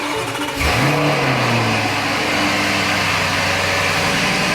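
A crash-damaged Lamborghini Urus engine cranks and fires, then settles into a loud, rumbling high idle with a steady throaty drone, close by.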